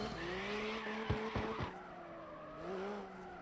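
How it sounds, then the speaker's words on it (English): A race car screams near its rev limiter through a left-hander during a qualifying round, a loud sustained high-pitched engine whine with a few sharp bursts and tire scrubbing in the middle, then the pitch drops and rises again. "You can hear him right on the rev limiter."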